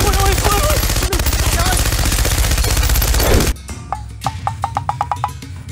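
Cartoon gunfire from kidnappers, a rapid burst of shots following loud, busy animated dialogue and music, then a sharper run of distinct pops near the end.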